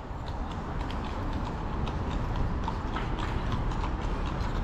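Horse hooves clip-clop steadily on a city street at night in St Petersburg, a horse-drawn ride passing amid continuous broadband street noise, moderately loud with no talk.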